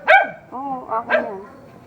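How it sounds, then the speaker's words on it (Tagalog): Dogs greet arrivals with a few sharp, close barks and yips in quick succession, loud at first and then tapering off. "talaga nananalubong yung mga aso eh"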